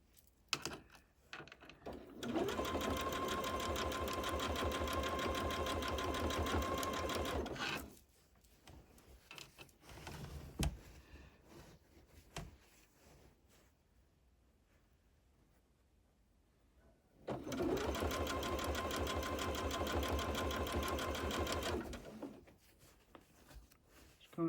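A sewing machine runs back stitches along the binding of a stiff baby quilt, two long steady runs of rapid mechanical whirring separated by quieter handling and shuffling of fabric.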